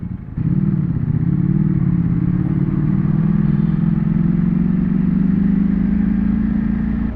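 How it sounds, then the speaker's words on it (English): A Ducati V4 motorcycle ridden on the road, its engine holding a loud, steady, close drone that starts abruptly and continues without a break, with a slight rise in pitch toward the end. "It's been like 2 weeks since I've taken out the Ducati for a ride."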